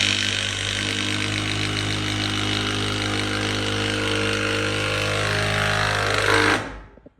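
A loud impact driver rattles and hammers continuously for several seconds while driving screws into boards, then winds down and stops abruptly.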